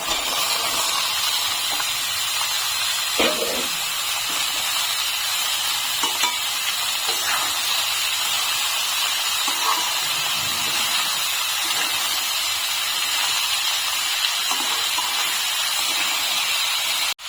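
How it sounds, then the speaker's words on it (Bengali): Steady, loud sizzling of bottle gourd frying in a hot pan, a continuous crackling hiss with occasional louder pops, no voices. "এখন আমি এর ভিতরে লাউগুলো ছেড়ে দিচ্ছি।"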